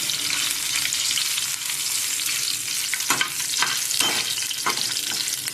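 Green chillies frying in a pan for chicken curry, a steady loud sizzle with a few sharper stirring scrapes near the end, no voices.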